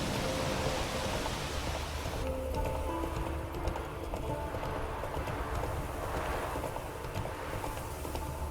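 Horse galloping in The Witcher 3, a steady, rapid run of hoofbeats under a wash of wind-like ambient noise, continuous and moderately close throughout.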